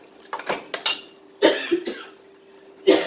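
A few sharp coughs, close and abrupt, separated by short pauses, with faint kitchen clinks in the background.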